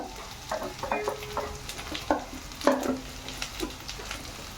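Onion, garlic, turmeric, chili and coriander powder sizzling in a pan while being stirred, with a steady frying hiss broken by several scraping strokes of a spoon, close and clear.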